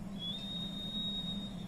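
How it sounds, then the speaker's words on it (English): During a cranial nerve exam, a patient whistles one long, steady, clear note that holds evenly for over a second against a low background hum. "can you whistle?"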